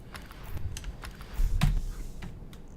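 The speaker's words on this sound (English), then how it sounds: "Our keyboard will always be clacking. It's really just loud." Fingers type steadily on a loud, clacking computer keyboard, with close, irregular keystrokes tapping out in quick bursts and no voices.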